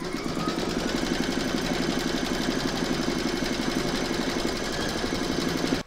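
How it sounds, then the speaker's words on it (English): An embroidery machine stitches the second round of a large square scalloped placemat in the hoop, giving a fast, even mechanical chatter and hum that runs steadily up close, then stops abruptly at the end. "load your hoop into your machine and stitch round number two"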